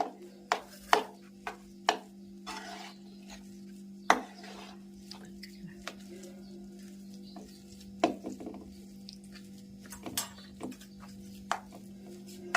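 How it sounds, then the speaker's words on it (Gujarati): Aubergine and potato curry is tempered in a pan, heard as scattered sharp clinks and knocks of a spoon against the vessel over a low steady hum, with quiet gaps between strikes. "રીંગણા બટેકાનું શાક વઘારાય છે"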